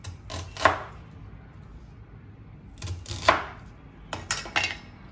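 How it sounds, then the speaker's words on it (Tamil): An onion being cut with a knife on a board for chilli idli, several separate chops in short clusters, close and fairly quiet, with no talk. "இந்த வெங்காயத்தை முதல்ல 4ஆக கட் பண்ணுங்கள்"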